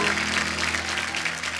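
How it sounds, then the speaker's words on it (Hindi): Studio audience of a TV comedy talk show applauding as a guest actress is welcomed, a brief continuous wash of clapping over a low hum. "तो आप सबकी जोरदार तालियों के बीच में स्वागत करना चाहूंगा श्रेया धन्वंतरी।"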